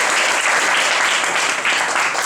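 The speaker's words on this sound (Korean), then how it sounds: "박수 한번 주세요" Audience applause at a team project presentation event, a loud, dense burst of clapping from the crowd for a couple of seconds.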